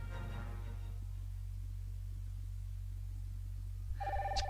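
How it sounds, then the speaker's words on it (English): A telephone bell in a 1990 British TV advert rings in a short bright burst near the end, after a stretch of quiet broadcast hum. "That'll be the phone."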